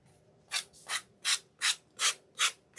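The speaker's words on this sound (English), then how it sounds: "a sanding block of some kind and just sand the edges" A sanding block scrapes along the edges of a painted wooden post in six or seven even, rhythmic strokes, each a short close rasp separated by brief quiet gaps.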